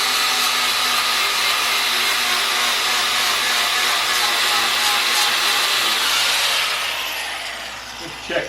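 A handheld grinder strips paint from the rocker panel of a Mercedes 300 SEL 6.3, making a loud, close, steady whirring rush that winds down at the end.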